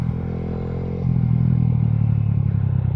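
A motorcycle engine runs while the rider practices a staggered wheelie stance, idling steadily at first, then swelling into a louder, thicker drone that holds for the last two seconds.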